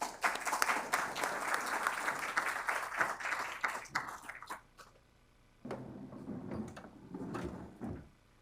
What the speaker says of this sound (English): A little bit of a delayed applause there, you guys